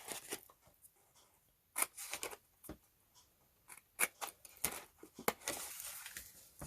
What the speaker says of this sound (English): we're just going to snip off those thin rectangles on each end of your box